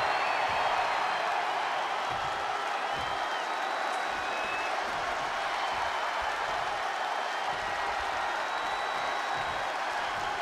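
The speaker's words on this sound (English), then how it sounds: "The WWE Universe is showing their appreciation for the action they're seeing." Video game arena crowd from WWE 2K20 wrestling applauding and cheering in a steady, dense wash of sustained clapping and crowd noise throughout, with no speech on top.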